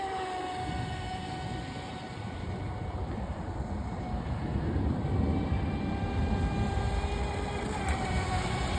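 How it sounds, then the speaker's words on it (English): A Proboat Recoil 2 RC boat runs at full throttle, a thin high-pitched motor whine with a steady rushing wash of water, fairly distant and constant with a slight swell near the end. "There's just something about the sound of a boat."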